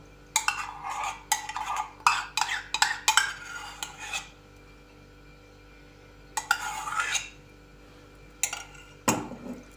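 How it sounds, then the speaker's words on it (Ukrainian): A spoon stirs a thick cottage cheese and soft butter mixture in a bowl, scraping in quick rhythmic bursts, pausing, then stirring again, close by. "Все це перемішую."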